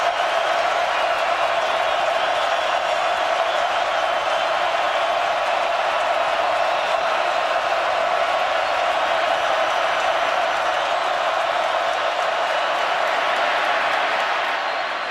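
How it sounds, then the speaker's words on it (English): Steady, loud stadium crowd roar at an Alabama versus Florida college football game, a dense unbroken wall of massed voices that holds for the whole stretch and eases slightly near the end. "let's see how much the crowd affects the play"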